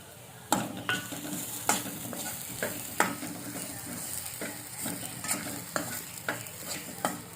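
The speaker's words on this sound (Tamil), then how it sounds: "கொஞ்ச நேரம் ஃப்ரை பண்ணிக்கலாம்" Ginger garlic paste and ground coriander seed fry in a pan for egg curry, a steady close sizzle broken by regular sharp scrapes of a stirring spoon, about a dozen strokes through the stretch.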